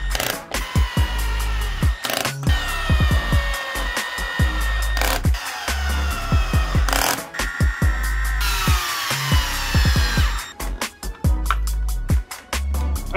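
A power screwdriver drives screws into an X-Maxx RC car during its build: short whirring bursts rising and falling in pitch, several in a row with brief pauses and clicks, close and loud, with no talking.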